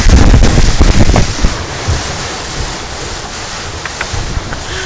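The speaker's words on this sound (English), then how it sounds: "Another slow boat." Loud, steady rumble of a slow wooden passenger boat cruising the Mekong River in Laos, with wind buffeting the microphone heavily at first before settling into a continuous engine and water wash.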